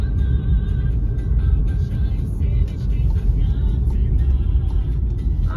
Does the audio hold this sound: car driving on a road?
yes